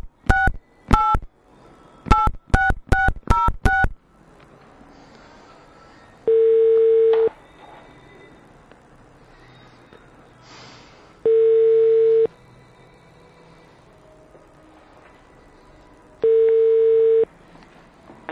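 Telephone dialing: a quick run of touch-tone beeps, then a quiet pause and three long evenly spaced ringback tones, loud and clear.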